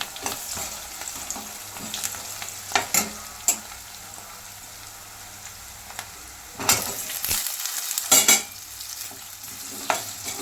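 Potato pieces fry in hot oil with cumin and turmeric, a steady sizzle broken by sharp scraping stirs and spoon knocks against the pan, close and moderately loud with no voices.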